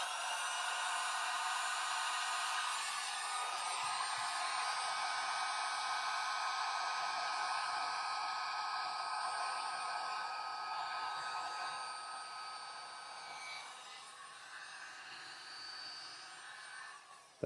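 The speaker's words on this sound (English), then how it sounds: "Go ahead and take our heat gun." Heat gun blowing hot air during a soldering setup, a steady high-pitched whir and hiss close by that eases slightly in level near the end.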